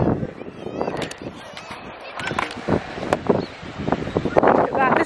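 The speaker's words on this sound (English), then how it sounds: "And all I can hear is seagulls." Seagulls call over strong wind on clifftops above a cove on a bright, sunny day, their cries scattered and mid-distance amid steady gusting and microphone buffeting, with people talking nearby.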